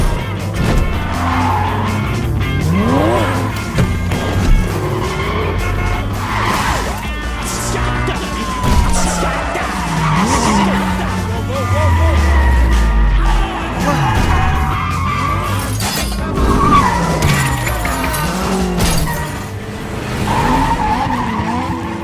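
Car chase from an action film about a getaway driver fleeing police, with engines roaring and tires skidding and squealing repeatedly throughout, loud and continuous with no talk.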